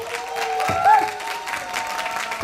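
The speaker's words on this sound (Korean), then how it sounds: "우리 열연사제2의 주역분들을 박수로 모시겠습니다." At a TV drama production press conference, the audience applauds steadily as the lead cast are welcomed, with tonal music or a voice running through the clapping.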